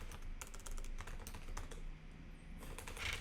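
Quick, light keystrokes on a computer keyboard clatter in an irregular run, faint and close, with no voices over them.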